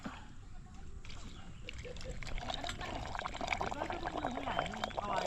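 Water poured into a cooking pot outdoors, a soft, steady trickling and splashing that builds over a few seconds, fairly quiet, with faint voices in the background.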